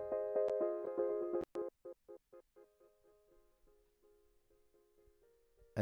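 Dry house piano chords from an Ace synth with no effects, a few sustained chords followed by short rhythmic stabs repeating steadily, then softer held notes, alone with no talk.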